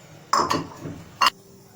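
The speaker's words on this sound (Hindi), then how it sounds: "इन तमाम चीज़ों को अच्छी तरह से मिक्स कर लेते हैं।" A metal spoon stirring a semolina halwa mixture with khoya in a pan, with a few sharp clinks and a brief soft scrape, close and fairly loud, no talk.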